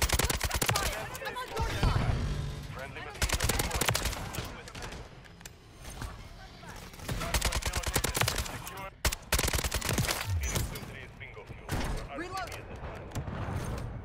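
Kastov 762 rifle gunfire in Modern Warfare 3, with repeated loud bursts of rapid automatic fire separated by short pauses and a voice talking at times between them.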